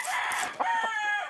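A rooster, a red fighting cock, crows once up close, a loud drawn-out call with a short break partway through.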